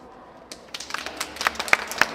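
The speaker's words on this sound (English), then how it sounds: "That's some applause." Audience at a Colorado Capitol luncheon claps after a speech, starting with a few scattered claps that build into a sparse, irregular patter of individual hand claps close by.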